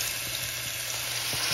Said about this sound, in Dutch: dan ga ik mijn kruiden een beetje bakken